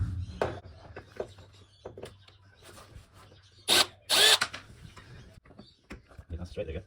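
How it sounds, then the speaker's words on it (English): Power screwdriver removing screws from a Samsung TV, with two short loud whirring bursts in the middle amid handling clatter and tapping, close by with some background talk. "We might fast forward this bit as we take out all the screws."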